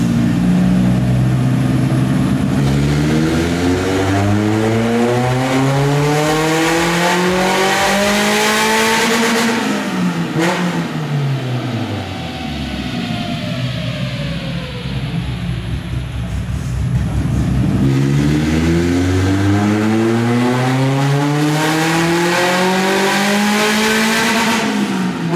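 A Renault Clio engine on a dyno is revved in full passes after a friction-reducing additive is added. The pitch climbs loud and strong, drops away and then winds up again in a second rising run, with no talk.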